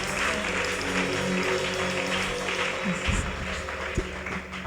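A church congregation breaks into sustained applause during a French-language service, a dense, steady wash of clapping throughout with voices mixed beneath it.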